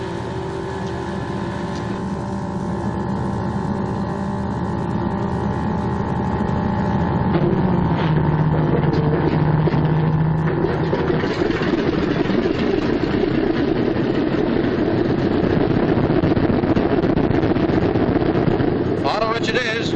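A Martin B-26 Marauder bomber's radial engine turns over and catches, building from a whirring start into a loud, steady rumbling run while someone talks over it.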